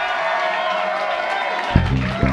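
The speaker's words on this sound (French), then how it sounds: "J'aimerais applaudir Léon à la basse ici." An audience at a concert applauds the bassist Léon with steady, close clapping, and a voice speaks over the final moments.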